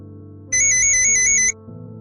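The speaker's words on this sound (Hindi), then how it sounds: "अब किसका फोन आ गया?" A mobile phone ringtone plays as a single bright electronic burst of about one second, clear and close over a low steady background hum, with no talking.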